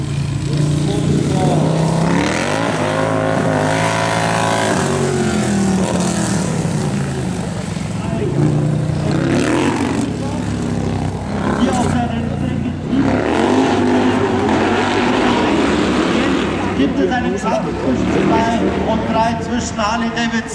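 Harley-Davidson and BMW R18 bagger motorcycles race at Ampfing in Germany, their loud engines droning and rising and falling in pitch throughout while a commentator talks over them.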